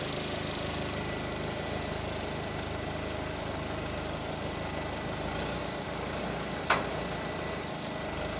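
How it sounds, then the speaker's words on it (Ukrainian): A Kubota SMZ95 tractor engine runs steadily at a low rumbling idle, with a single sharp click near the end. "виїжджає своїм ходом Кубота СМЗ 95"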